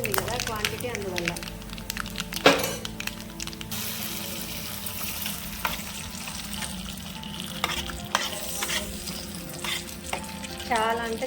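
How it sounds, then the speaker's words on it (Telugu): Spiced tempering poured into a large pot of dal made with cucumber, mango, tomato and tamarind, giving a busy sizzle and steady stirring, with a sharp clatter early on and clinks throughout. "ఈ పోపే తీసుకెళ్ళి పప్పులో యాడ్ చేద్దామండి"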